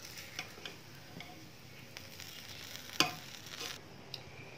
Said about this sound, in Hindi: अब हम इन्हें मिक्स करेंगे।